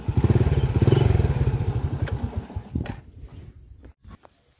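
An old stock motorcycle engine idles loud and close with a steady rapid putter, then is switched off and sputters to a stop, leaving scattered knocks and clicks.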